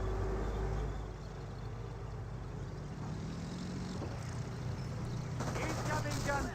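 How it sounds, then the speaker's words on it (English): Rapid gunfire crackles through a World War II battle in the real-time strategy game Company of Heroes. Steady engine and battle rumble sit underneath, and sharper bursts of shots cluster near the end. "Incoming gunfire."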